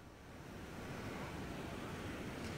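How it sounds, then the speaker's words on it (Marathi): Rough sea surf rolling in at high tide on Juhu beach in Mumbai during heavy rain, a steady loud roar with wind buffeting the microphone and no clear separate wave breaks. "समुद्राला उधाण आल्याचं आपण बघतोय, भरतीची वेळ आहे"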